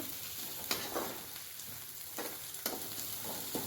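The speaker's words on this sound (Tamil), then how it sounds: "போட்டுட்டு நல்லா கிண்டி விட்டுக்கோங்க." Curry leaves fry with a close, steady sizzle in a pan for chicken varuval, broken by a few sharp spatula strokes at regular intervals, with no voices.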